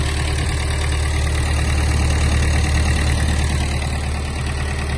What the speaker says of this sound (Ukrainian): Ось так працює гарний мотор.